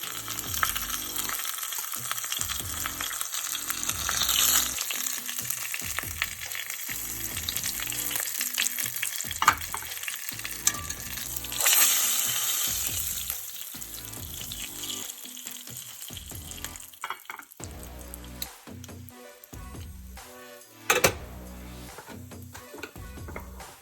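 Food sizzles and fries steadily in a pan, browning on all sides, with occasional stirring clatter and a sharp clink near the end; no voices.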